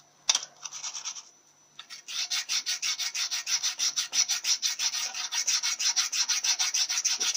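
Coarse sharpening stone rubbed flat across a cast iron Chevrolet Powerglide transmission part, fast rhythmic rasping strokes close up, a few hesitant scrapes first and then a long even run.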